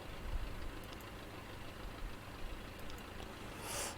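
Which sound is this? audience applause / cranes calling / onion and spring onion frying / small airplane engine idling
small airplane engine idling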